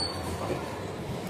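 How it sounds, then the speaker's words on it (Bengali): A train pulls into a station with a steady, fairly loud rumble of wheels and rolling stock that holds evenly for the whole moment, with no voices. "এই দেখুন ট্রেন"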